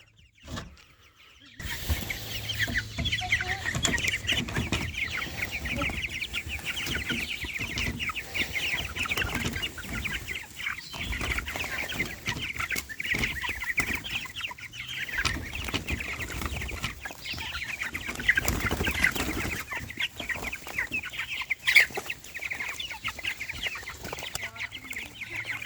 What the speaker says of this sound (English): Release the chickens.